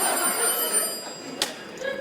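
A telephone rings on a live Broadway stage during a comedy, with a steady electric bell trill under the faint ambience of the theater.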